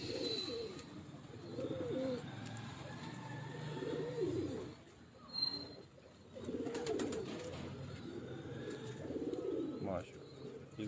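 Rampuri and Firozpuri pigeons coo on a rooftop, their low rolling calls repeating steadily and close through the whole stretch, with faint background murmur.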